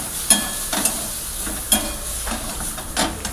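Fish curry being sautéed in a pan, a close hissing sizzle with a few distinct scraping stir strokes spaced through the short stretch.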